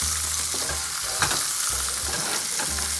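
Pork chops fry in a pan with olive oil and garlic, giving a steady, close sizzle with stirring and scraping clatter throughout and no talk.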